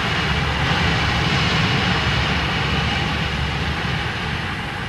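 Hawker Siddeley Trident jet airliner of British European Airways taking off, a loud, steady, broadband engine roar that fills the whole clip with no voices.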